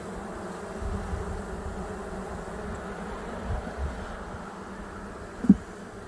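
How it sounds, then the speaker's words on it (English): Honey bees buzz in a steady, soft drone around an open hive during an inspection, with one brief louder knock near the end. "As you can see, we have some pretty gentle bees."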